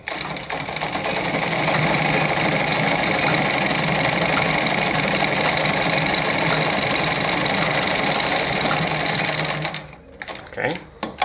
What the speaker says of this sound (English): So when I sew my zigzag,